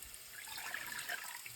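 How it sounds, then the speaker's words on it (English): A cup of cold water poured into a pan for packet gravy, with a short, steady splashing pour at close range and no talk over it. "cold water, pour it in there."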